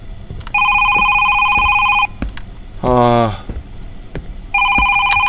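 An electronic telephone rings in a horror video game, loud, clear double-toned bursts, one ring before and one after a short spoken exclamation in between.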